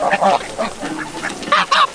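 Several ducks quack close by in a quick, uneven series of loud calls, heard on their own without talking.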